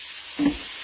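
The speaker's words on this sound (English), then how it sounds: "So it's starting to sizzle pretty good." Chili meat and seasoning sizzle in a pot, a steady close hiss with a brief swell in the middle and no talking.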